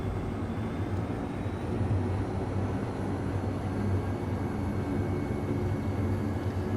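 A steady, moderate engine drone from a light aircraft in Flight Simulator 2024, with no clear rise or change across the span and no talking.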